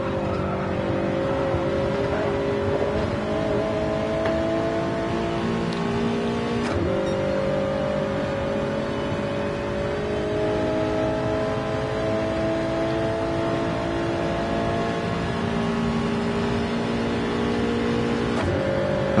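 Race cars in a Saturday multi-class race braking and accelerating through a chicane, with a steady loud engine drone, shifting revs and brief gear-change blips over the full stretch.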